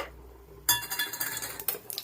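A metal lid is set onto a pot of rice cooking for a white basmati pulao, giving a sudden bright clank followed by a few quick rattling clinks and scrapes close by, with no talk.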